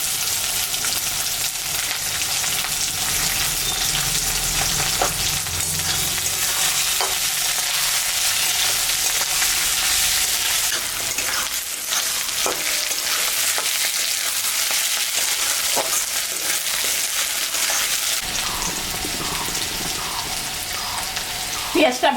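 Onions, garlic and green chilies fry in oil in a pan for mutton kosha, giving a steady, close sizzle throughout with occasional clinks and scrapes of stirring.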